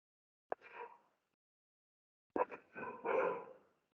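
A dog barks in two bursts, a single sharp bark followed by a couple of rapid barks after a pause, fairly close indoors with nothing else heard.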